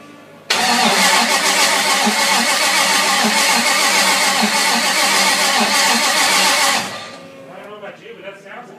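A Ford 302 V8 fitted in a Land Rover Series 2A cranks loudly and steadily for about six seconds with a rhythmic starter churn, then cuts off, leaving quieter background noise and brief voices.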